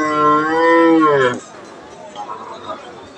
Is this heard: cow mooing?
yes